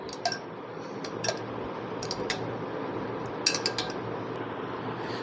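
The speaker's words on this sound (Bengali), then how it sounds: "এখন আমি এটাকে খুব ভালোভাবে মেশাবো, এভাবে খুব সুন্দর করে মেশাতে হবে" Marinade with chili flakes being mixed in a bowl for butter chicken naga wings, small utensil clinks and taps against the bowl scattered in bursts over steady low background noise.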